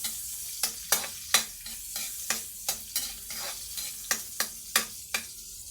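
Squid adobo frying in a pan, stirred over and over with a spoon or spatula, with about a dozen sharp scraping strokes at an irregular rhythm over a steady sizzle, close and clear with no voices.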